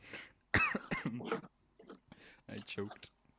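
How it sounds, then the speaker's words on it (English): A person coughs in a few harsh bursts close to the mic, with a throat-clearing sound among them and short breathy pauses between. "I coughed."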